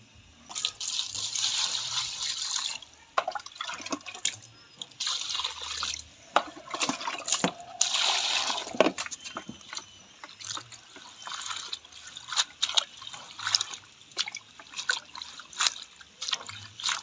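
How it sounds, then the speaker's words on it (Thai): Vegetables are rinsed by hand in water, giving faint, close sloshing, trickling and dripping in irregular splashes with no talking. "ล้างประมาณสามสี่น้ำไม่ละสะอาดแล้วละ"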